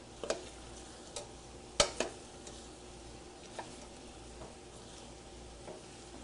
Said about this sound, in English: let's take a look at these onions and give them a nice stir